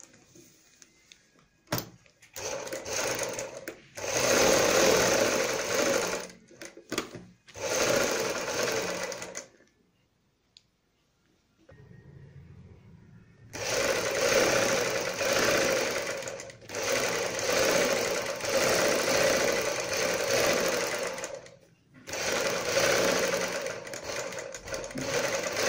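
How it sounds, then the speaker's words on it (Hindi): A sewing machine stitches a strip onto a kurti sleeve, running in several steady bursts of rapid needle clatter separated by short pauses, close and fairly loud, with no talking. "दूसरी पट्टी की दूसरी साइड भी सिलाई कंप्लीट कर लेते हैं"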